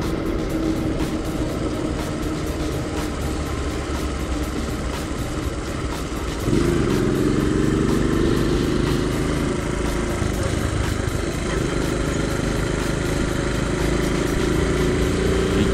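A Honda Dax motorcycle engine runs steadily and close, a constant mid-pitched drone that shifts up in tone partway through, with no talking.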